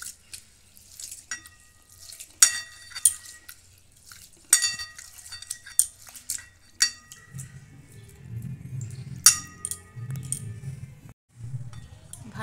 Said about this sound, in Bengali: ভালো করে চালটা ধুয়ে নিয়েছি